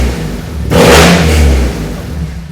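The modified 2.4L Honda Accord engine revs up loud and close, a sharp burst of acceleration that holds for about a second before dropping back toward a rumbling idle.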